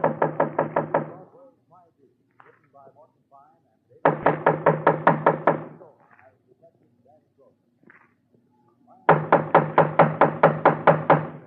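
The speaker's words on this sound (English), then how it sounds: "Just knock on the door, huh, Dennison?" Door knocking for a radio police drama: three loud bursts of rapid rhythmic knocks, roughly eight to ten raps each, separated by pauses with faint voices in between.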